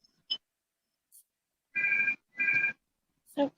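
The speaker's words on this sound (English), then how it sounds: "Somebody has a phone call." An incoming phone call sounds as two short ringtone bursts in quick succession, clear and fairly close, with a couple of faint clicks around them and otherwise near silence.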